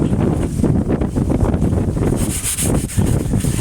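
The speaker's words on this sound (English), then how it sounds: "A little bit breezy out here today." Outdoor wind blowing steadily across the microphone, a continuous broadband rush and buffeting that swells and eases for a few seconds, with no voices.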